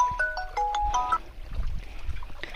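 Mobile phone ringtone for an incoming call: a short, clear electronic melody of bright stepped tones, followed by low rumbling background noise outdoors near farm fields.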